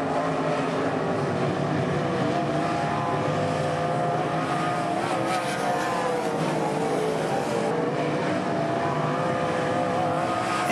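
Modified-division race cars at Lakeside Speedway roar together in a steady, loud engine drone, sustained through the whole stretch without letting up, and no voices can be heard over them.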